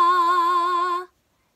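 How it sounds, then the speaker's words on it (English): A single sung note with gentle vibrato, the pitch wavering slightly and evenly above and below the note for about a second, loud and close, ending abruptly into silence. "Vibrato is when you come in and bend the pitch slightly."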